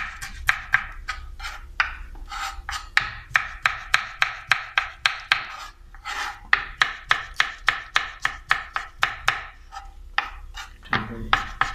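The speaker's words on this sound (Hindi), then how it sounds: "चले अब हम काटते हैं हरी मिर्च" Rapid, steady knife chops through green chillies on a cutting board in a home kitchen, crisp close taps in an even rhythm with brief pauses, no talking.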